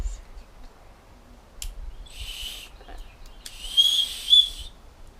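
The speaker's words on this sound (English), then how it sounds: "So, show them the whistle," A whistle built into a Leatherman multitool is blown in two short, shrill bursts, the second louder and longer, with brief handling noise between them.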